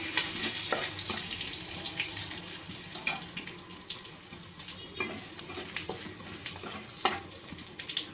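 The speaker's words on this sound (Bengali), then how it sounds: "রসুন কুচিটা একটু ভালোভাবে ভেজে নেব।" Chopped garlic frying in oil in a wok gives a soft, steady sizzle with scattered crackles and occasional utensil taps, fairly quiet and close.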